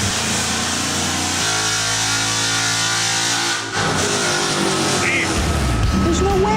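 A custom Ford Mustang runs on a dyno, its engine droning loudly and continuously with a sustained high-revving tone, dipping briefly before climbing again, with voices talking over it.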